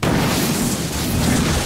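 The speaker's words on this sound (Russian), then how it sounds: "Ого, взрыв." A loud, sustained explosion roars in Garry's Mod, a dense, rumbling blast that fills the whole moment without letting up and drowns out everything else.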